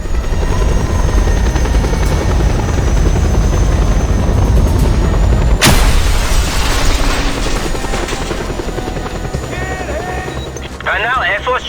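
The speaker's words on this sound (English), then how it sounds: "And now Air Force chopper arriving shortly." A helicopter in the video game Just Cause 2 roars loudly and continuously. A sharp boom cuts through it midway, and game effects chirp near the end.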